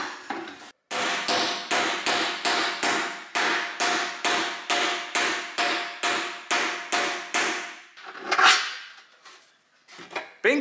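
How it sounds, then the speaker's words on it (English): A steel shaft is driven into a hole in aluminium sheet metal with a hammer: about twenty sharp, evenly spaced metallic blows in steady rhythm, close and loud, then a pause and a couple of final strikes. "and hit it with a hammer."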